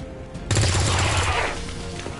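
A burst of gunfire from a shot in the video game X-COM 2: a loud, dense volley of rapid shots starting abruptly and lasting about a second, then tapering into a lingering rumble with no talk over it.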